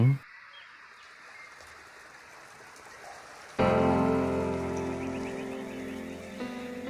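Rain pours down in Hua Hin, Thailand, as a dense hiss that starts abruptly partway through and stays steady. Quieter ambience with faint bird chirps comes before it.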